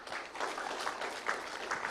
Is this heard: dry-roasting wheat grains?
no